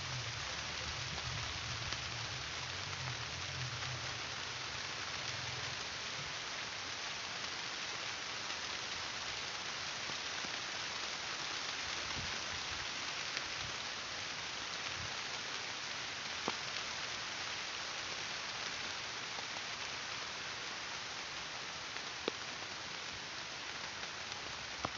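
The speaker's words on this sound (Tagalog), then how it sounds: "Yan, napakalakas ng ulan." Heavy rain pours down on a chili field in a dense, continuous hiss, with a few sharper drips and patters standing out now and then.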